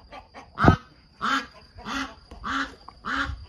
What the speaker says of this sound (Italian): La classica oca da guardia.